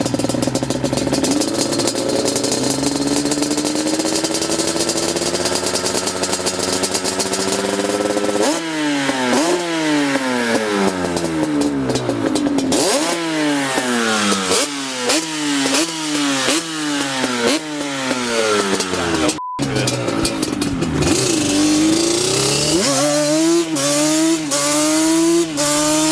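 Yamaha Banshee ATV fitted with a DMC 916 2-into-1 exhaust, its two-stroke engine buzzing loud and close, with repeated sharp revs that climb and drop, then a brief cut before more revving.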